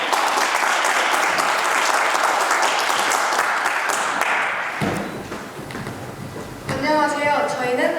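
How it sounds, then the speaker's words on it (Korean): A Korean youth center audience claps in warm applause, loud and sustained, thinning to scattered claps before speech begins near the end. "다들 박수로 맞이해주세요."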